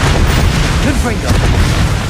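In Hogwarts Legacy, a Confringo spell detonates with a loud, booming blast that fills the whole moment with dense rumble, while a character's voice is heard over the explosion.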